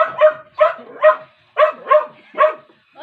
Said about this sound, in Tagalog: ito nga alaga kung aso napakaingay niyan